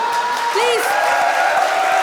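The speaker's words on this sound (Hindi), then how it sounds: "बच्चों, जोरदार तालियां" Studio audience applauding and cheering at a comedy show, a dense continuous wash of clapping with a few whoops, loud and close throughout.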